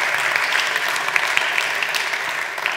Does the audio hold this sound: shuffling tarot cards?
no